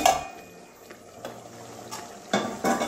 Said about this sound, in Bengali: এবারে আবারও ঢাকনাটা খুলে নিচ্ছি।